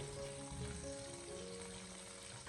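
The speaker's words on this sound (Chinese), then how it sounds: "然后再继续的小火翻炒几下，把八角和香叶全部炒出香味" Star anise and bay leaves stir-fried over low heat for soy sauce chicken legs. A soft, steady sizzle continues throughout, with a faint hum underneath.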